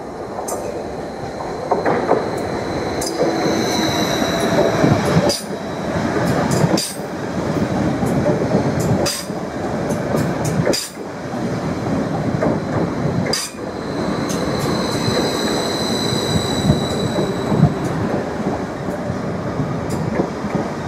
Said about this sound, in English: we've now got the 1544 service to Norwich, which will be arriving shortly into platform 3.